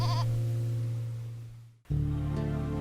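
A sheep in a flock grazing the plain on Tatihou island, Saint-Vaast-la-Hougue, France, bleats in a long wavering call, then another sheep answers with a second loud bleat after a brief pause.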